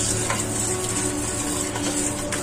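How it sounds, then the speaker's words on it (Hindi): A thick batter of gram flour with green coriander, mint, and ginger-garlic paste is stirred steadily by hand, giving a continuous wet, sizzling-like mixing sound close up, with no talk. "इसको अच्छी तरीके से इसे मिक्स कर लेंगे।"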